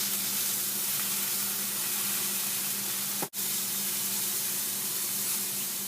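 Turkey burgers sizzle steadily in a hot pan, a constant loud frying hiss that runs on without pause apart from one brief dropout partway through.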